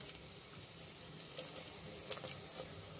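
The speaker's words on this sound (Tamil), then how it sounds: "இப்போ இது எண்ணெய் சூடாயிடுச்சு, நம்ம இதில் எடுத்து வச்சிருந்த தாளிப்பு வடகத்தை சேர்த்துடலாம்." Seasoning vadagam dropped into hot oil crackles with a faint, steady sizzle and a few small pops, close by and quiet, with no one talking.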